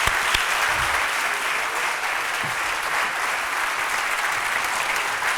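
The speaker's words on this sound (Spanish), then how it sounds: "te vamos a hacer entrega ahora, además de este fortísimo aplauso" Loud, sustained audience applause at an award presentation during a literary event in Valladolid, a dense steady clatter of many hands lasting throughout with no speech.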